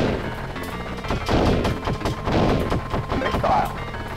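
Rapid, loud gunfire from the Sega Mega Drive shoot-'em-up Gunship, a dense stream of retro game shots with booming blasts running continuously through the whole stretch.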